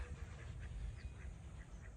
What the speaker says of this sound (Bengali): হাঁসগুলো দেখো কি সুন্দর